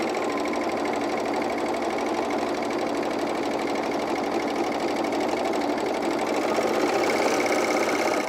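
A serger sews a 4-thread seam on underwear, humming steadily and loudly for the whole stretch with a fast, even mechanical rattle and no pauses.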